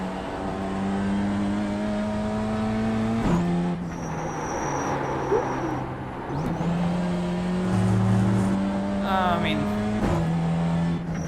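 A BMW M2 race car engine drones in the iRacing simulator, a steady near engine note with gear changes and shifting pitch, tire and mechanical noise underneath throughout.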